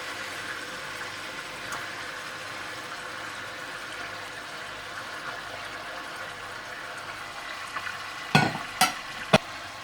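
Onions and tomatoes fry with chicken in a karahi pan, a steady soft sizzle throughout with a few sharp utensil clinks near the end; no talking.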